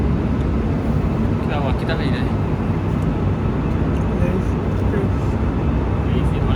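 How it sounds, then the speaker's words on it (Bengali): A steady, loud broadband roar fills an airplane cabin in mid-flight on a return trip from Turkey to the UK, with people talking faintly over the constant engine noise. "আমরা এখন মধ্য আকাশও আছি"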